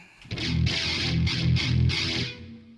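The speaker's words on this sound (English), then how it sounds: "this distortion pedal up here, oh boy, it makes me happy. This is the Amp Tweaker Tight Metal." An electric guitar played through an Amp Tweaker Tight Metal distortion pedal chugs out several thick, heavily saturated palm-muted chords in a rhythmic pattern, loud and close, ending in a fading ring.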